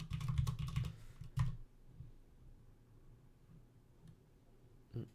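Clattery bursts of typing on a computer keyboard, dense clicking for about the first second and a half, then a long quiet stretch with a few scattered keystrokes and a short final burst.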